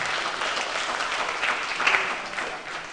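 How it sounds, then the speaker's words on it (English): Steady applause from an audience, many hands clapping together in a dense, continuous wash of sound that swells slightly near the middle. "let's clap hands."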